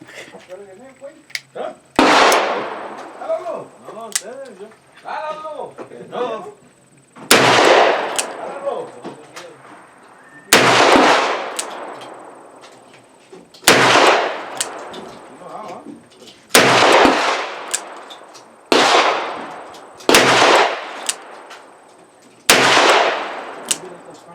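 A Smith & Wesson Model 610 revolver fires 10mm rounds outdoors: eight loud, sharp shots spaced a few seconds apart, each with a ringing decay, and a person talks before the shooting starts.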